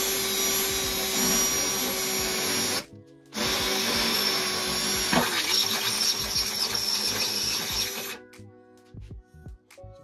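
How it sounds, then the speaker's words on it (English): A power drill whines steadily as the bit bores into the body panel of a 100 Series Toyota Land Cruiser for a snorkel install, pausing briefly, then grinding on before stopping, close and loud. "So I just want to make sure I'm not going to stab anything as the drill bit goes in."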